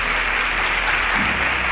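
Studio audience applause at a quiz competition's results announcement, dense, loud and continuous clapping filling the whole moment without any talk.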